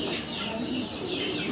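A racing pigeon coos softly and briefly, close by, against a steady background hiss.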